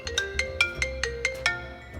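An iPhone 7 Plus loudspeaker plays a bright ringtone-like melody of about eight quick, evenly spaced chiming notes, close and clear, with nothing else heard.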